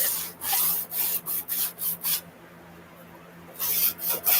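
Soft chalk rubbed in circular strokes on paper to build a blue mist, a close, rhythmic scraping in quick repeated passes, pausing briefly before resuming.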